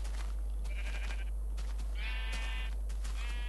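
Sheep in the Minecraft video game bleat twice, short wavering cries with a pause between them, fairly close and clear over a quiet background.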